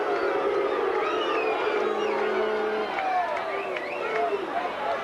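Crowd at a 1985 VFL Australian football match between Hawthorn and Richmond, a dense roar of cheering and shouting voices throughout, filling the stadium at a steady level.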